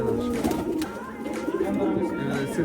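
Female racing pigeon cooing close by, soft repeated throaty coos in a loose rhythm over a busy loft background, while people talk in the clip.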